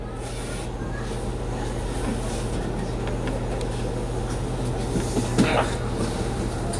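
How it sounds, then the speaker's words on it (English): Engine 501 train approaching Cumberland station near Baltimore Street: a steady low rumble with a constant mechanical hum, faint clanks, and a brief brighter squeal or hiss swelling near the end, heard from close by. "we will pause briefly to stop traffic on Baltimore Street so the train can safely cross"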